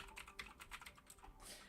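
Rapid typing on a Red Dragon Summit computer keyboard, a close, busy patter of key clicks lasting under two seconds with no voices.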